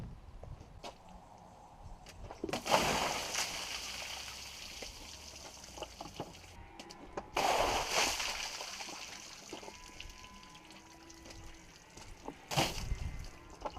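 Water launched from a bucket onto a dusty baler hits in three loud splashing bursts, each followed by dripping and trickling runoff, with quieter clanks and handling noises between.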